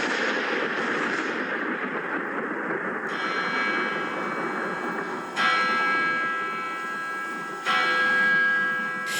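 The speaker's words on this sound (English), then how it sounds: "with each strike of the bell" A deep church bell strikes three times, each stroke ringing out loudly and resonating long over a rumbling, dramatic background.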